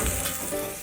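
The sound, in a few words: omelette cooking in a pan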